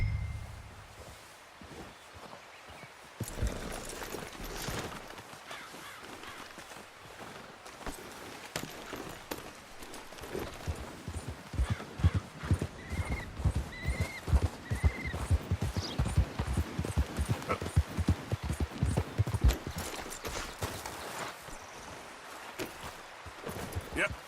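Horse hooves clip-clop steadily in Red Dead Redemption 2, a quick rhythmic trot of close, moderately loud hoofbeats, with an occasional whinny and people talking now and then over the gait.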